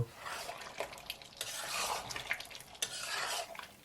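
Beef bhuna cooking in a pot with a spoonful of garam masala, stirred repeatedly so a spoon scrapes and clatters through the thick sizzling meat in uneven bursts, close and fairly loud.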